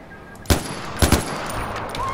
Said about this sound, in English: I'm gonna try to get as close as possible and then put as much bullets as I can into it